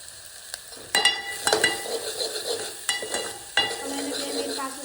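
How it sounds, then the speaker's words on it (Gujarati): Masala for homemade Manchow soup fries in a pan, with a soft sizzle under several sharp clanks and scrapes as a spoon stirs. Mostly close, with a few louder strikes spaced out over a few seconds. "ફ્રાય તો જુઓ"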